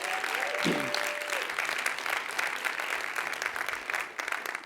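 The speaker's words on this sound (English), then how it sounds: "Let's give a great round of applause to Dr. Murthy." An audience at a national summit on addiction with the Surgeon General applauds Dr. Murthy. The clapping is sustained and fairly loud, broad and dense throughout, and a brief tonal whistle or cheer rises near the start.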